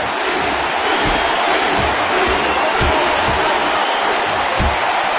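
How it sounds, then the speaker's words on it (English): A dense arena crowd in the UFC Undisputed 3 video game cheers through a heavyweight fight as a steady, loud roar, with faint commentary voices beneath it. "Man, this crowd is loving it, Mike."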